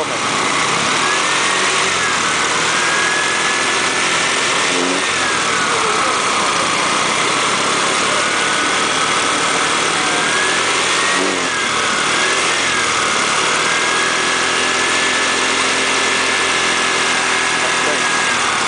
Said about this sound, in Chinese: 请你帮我吹油门